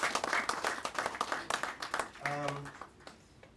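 Scattered audience clapping at a factory launch, sharp separate claps in an irregular rhythm that fade out as a voice resumes speaking near the end.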